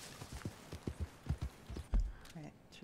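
A horse's hooves clip-clop at a brisk, even walk in Red Dead Redemption 2, close and distinct, each strike crisp, with a voice talking over part of it.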